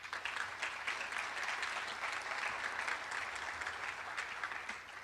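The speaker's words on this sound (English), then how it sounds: "So at least she got to hear the applause, which she so well deserves." Steady audience applause fills the room for director Sally Moore, a dense wash of many hands clapping continuously at even loudness from start to finish, with no voices rising above it.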